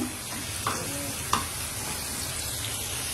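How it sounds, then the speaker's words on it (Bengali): Flat beans (shim) frying lightly in a pan with a soft continuous sizzle, broken by a couple of short scraping clicks of a spatula stirring. "আমি সিমগুলোকে একটু হালকা ভেজে নিচ্ছি"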